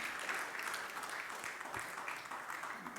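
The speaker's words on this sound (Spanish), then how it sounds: "Sí, démosles un aplauso" A church congregation claps for mothers on Mother's Day, a brief, fairly faint burst of applause in a room.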